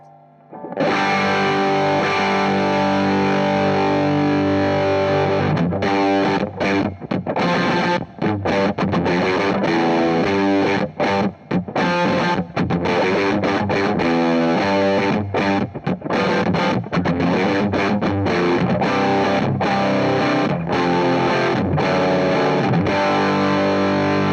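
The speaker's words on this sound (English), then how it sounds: "here's the pedal in the asymmetrical clipping mode" Heavily distorted electric guitar through an EarthQuaker Devices Sunn Life V3 octave distortion pedal in asymmetrical clipping mode plays loud, continuous riffs and chords with a thick, gritty, saturated tone, sustained without pause.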